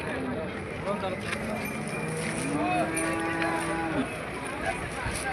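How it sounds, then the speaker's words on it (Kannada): Cattle at a livestock market in Gadag, with native bulls among them, give a long low moo over a steady murmur of crowd and yard noise. "ಜಾನುವಾರು ಮಾರುಕಟ್ಟೆ ಒಳಗೆ ಜವಾರಿ ಹೋರಿಗಳು ಬಂದವು"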